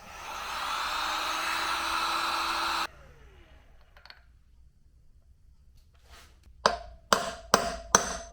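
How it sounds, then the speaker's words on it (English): Heat gun blowing with a steady whooshing roar for about three seconds while heating a wheel bearing on a Honda CRF/XR70 wheel, then cutting off, followed by quiet handling and four sharp metallic taps. "I'm switching over to my heat gun here."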